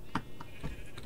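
Sheep in Minecraft give a few short, faint bleats spaced apart in quick succession.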